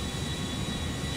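Steady, dense engine drone of a damaged plane being flown in Watch Dogs, with a constant high whine over a broad rumbling roar, continuous and fairly close, no voices.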